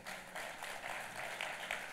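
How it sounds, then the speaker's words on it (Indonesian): A church congregation answers the pastor's call with warm applause, a soft, distant wash of many hands clapping steadily for a couple of seconds, quiet and alone without talk. "Boleh enggak tepuk tangannya yang paling meriah"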